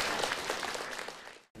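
An audience at an outdoor commemorative celebration applauds a children's performance, with fairly soft, dense clapping that fades and cuts off abruptly near the end.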